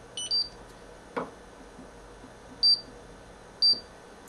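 A countdown timer chirps in short, high electronic beeps, a quick pair near the start and then two more single beeps spaced about a second apart, over a quiet room with a soft knock in between.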